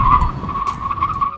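Tires screech in a sustained high squeal for over a second over a low engine rumble, then cut off abruptly.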